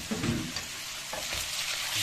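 Cooked pasta being tossed and sautéed in a pan for pasta con dinuguan, a soft steady sizzle with muffled scraping and clattering as it is mixed, fairly quiet and close.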